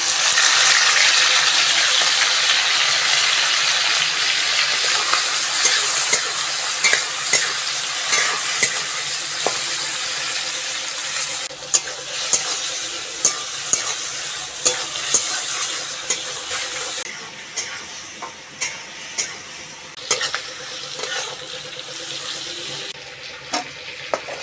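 Shrimp coated in salt and turmeric frying in mustard oil in a kadai, giving a steady loud sizzle with sharp crackles and occasional stirring clatter, no voices.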